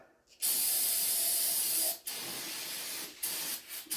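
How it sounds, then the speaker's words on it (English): Aerosol brake parts cleaner sprays onto an LS crankshaft balancer pulley on a Camaro in a loud, close, steady hiss, then several shorter bursts follow. "Take a little brake part cleaner"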